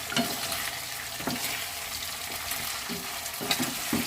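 Chicken pastil frying in a pan right after vinegar is added, giving a steady close sizzle with a few sharper crackles and pops, no voices.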